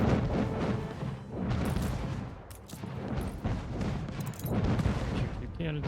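Cannon fire from ships and defensive towers during a naval attack in Anno 1800, a dense, continuous barrage of booms and blasts with a crackling roar underneath, loud and sustained throughout.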